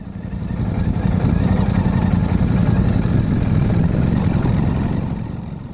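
A motorcycle crosses an iron bridge in the Himalayas, giving a steady loud low rumble and rattle that swells in and holds for several seconds, then eases slightly at the end.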